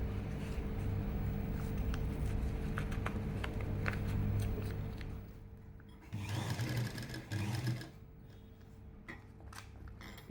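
Sewing machine stitching fabric piping for a churidar neckline, a fast steady mechanical whir running near continuously, with a brief pause and change in pace before it resumes more quietly.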